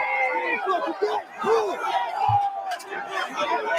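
Loud, dense crowd noise from a political street gathering, with overlapping shouts and chatter filling the whole stretch, excited voices rising and falling close by.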